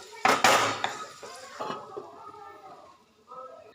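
Tomatoes are stirred in a pan over a village cooking fire, with irregular metallic scrapes and knocks of a spoon against the pan, loud at first and then quieter with pauses.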